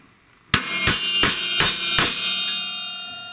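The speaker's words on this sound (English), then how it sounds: "I will just go in with my pin punch" A hammer strikes a pin punch five times in a steady rhythm to drive out a tight shaft pin, each sharp metallic clang ringing close and loud before a long decaying ring-out.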